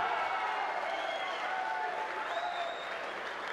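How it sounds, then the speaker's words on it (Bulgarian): An arena audience at a Max Fight Night kickboxing gala applauds steadily for the fighter being introduced, a dense wash of clapping with some crowd noise under an announcer's voice. "Моля, аплодисменти за Христослав Христов, Терминатора!"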